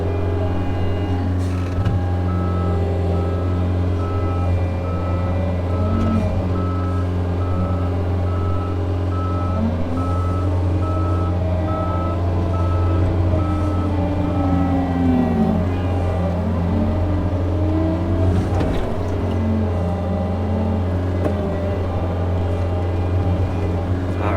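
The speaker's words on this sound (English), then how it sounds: "Let's go jump into skid steer." A skid steer loader working at a farm pond dam repair, its diesel engine droning steadily and loudly close by, with a repeating reversing beep and shifting engine revs as it drives and backs up.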